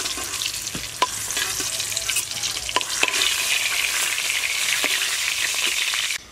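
Fried pointed gourds lifted out of hot oil in a kadai, with loud continuous sizzling and frying crackle, a few sharp spoon or slotted ladle taps against the pan, no speech.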